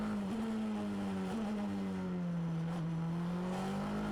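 A race car in an Ultimate Cup Series race at Estoril, its engine droning steadily as it accelerates progressively, with a couple of brief dips in pitch as it shifts up through the gears, heard continuously and fairly loud.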